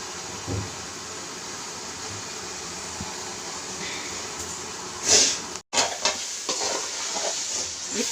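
Masala roasts in a covered pan in a home kitchen, giving a steady hissing sizzle throughout with a brief clatter of the lid or utensil near the end.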